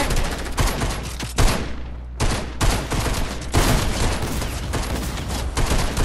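Sustained turret fire in a video game, loud close bursts of rapid automatic shots with brief gaps between volleys.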